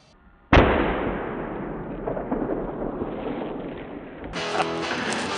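A single sharp gunshot cracks out loud and close while out hunting, its report rolling into a long, noisy decay that fills the rest of the moment before some clatter near the end.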